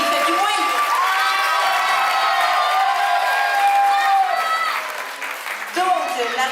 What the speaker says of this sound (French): Applaudissez-les bien fort, s'il vous plaît.